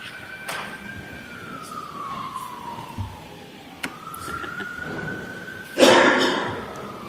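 Sirens wail outside a courthouse during a hearing, a slow falling tone that sweeps down, then rises again, moderately distant under steady background noise, with a few sharp knocks and a louder burst near the end.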